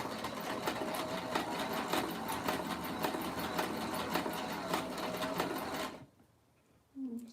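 Lingerie fabric in three layers runs through a sewing machine in a steady, loud, rapid stitching whir lasting about six seconds, then stops abruptly to near silence before a brief resuming burst.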